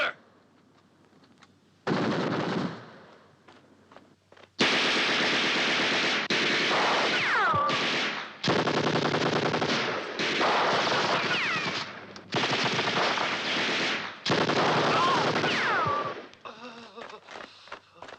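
Machine gun fire in a 1969 war film about the Battle of El Alamein: loud, sustained bursts of automatic gunfire in several long stretches, separated by brief pauses, with faint shouting in between.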